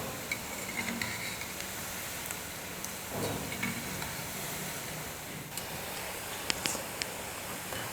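Urad dal bondas sizzle steadily in hot oil for a roadside tea-shop snack, with a dense, even hiss and occasional soft scrapes and light clinks as a ladle turns them in the pan.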